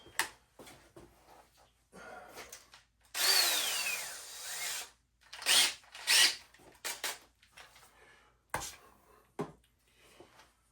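A power screwdriver drives screws into wood while building a basement arcade, a few short whirring bursts, one long rising run, scattered close and loud between quiet gaps.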